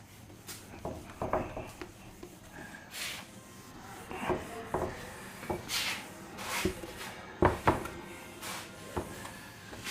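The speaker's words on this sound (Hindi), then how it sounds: "तो चलिए हमने क्वेश्चन को मिटा दिया है" A duster or cloth rubs writing off a classroom board in repeated brushing strokes with occasional knocks, close and moderately loud. The strokes come in irregular bursts separated by quiet gaps.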